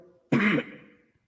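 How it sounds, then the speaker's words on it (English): A single harsh cough-like throat clearing, close and fairly loud, lasting about a third of a second before a short fading tail. "that COVID cough, that long, last years and years, it comes and goes"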